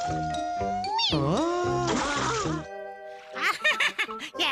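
A cat meows several times in close, loud, drawn-out calls with rising and falling pitch, including a longer wailing stretch, with no talking.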